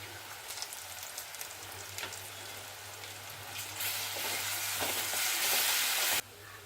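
Ginger garlic paste frying in a pan with onions and curry leaves, a steady crackling sizzle that grows louder and denser toward the end over a low constant hum.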